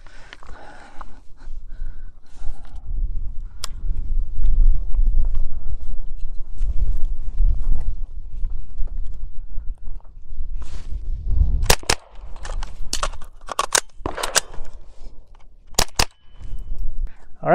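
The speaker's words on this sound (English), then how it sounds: "we're going to do 2 shots, reload, and then 2 shots" GSG-15 .22 LR carbine fired outdoors at a range in double taps, a few sharp close cracks in pairs with a reload pause between, following a stretch of low rumbling handling noise.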